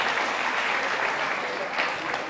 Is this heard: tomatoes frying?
no